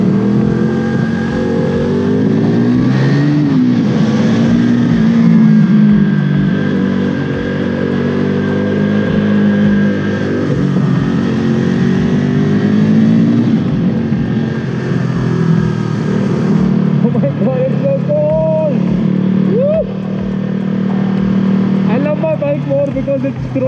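An engine rises and falls in pitch as the vehicle accelerates to overtake on the road from Wayanad to Ooty via Gudalur, with a steady droning hum throughout and two clear revving swells near the end.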